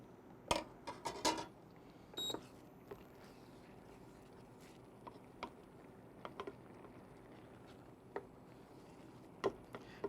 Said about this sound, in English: you want to continue to stir the rice